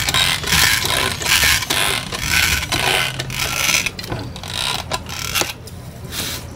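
Rhythmic mechanical clicking and squeaking as a water-filled hand sprayer is pumped repeatedly, close up, with a steady back-and-forth pace throughout.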